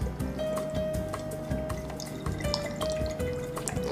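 Rice wine vinegar, about a quarter cup, pours into a marinade mix for cochinita pibil pork tacos, a steady liquid trickle with faint drips running throughout over low background noise.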